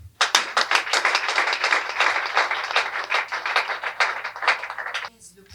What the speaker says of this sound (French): Ça s'applaudit bien entendu.